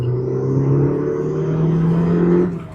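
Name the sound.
MK1 Ford Focus RS accelerating hard in first gear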